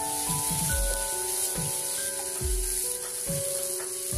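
Sweet potato frying in a pan for a kheer dessert, a continuous close sizzle with bright hiss, broken by several soft thuds and scrapes of stirring at a roughly even pace.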